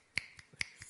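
Fingers snapping by hand, four crisp dry snaps in an even rhythm, two louder and two softer, close and clear in a quiet room with no talking.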